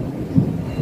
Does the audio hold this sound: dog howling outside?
no